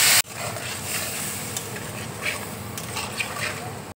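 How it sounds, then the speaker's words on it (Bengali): Water is poured into a pan of frying chilli pickle with red chilli powder and dried mango powder, giving a steady, close hiss and sizzle that holds evenly after a sharp start. "এবার দেখো অল্প করে জল দিয়ে দিচ্ছি আমি।"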